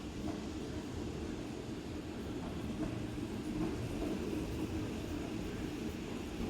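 A commuter train rolls along the line toward Bogor station as a faint, steady low rumble with no clear peaks.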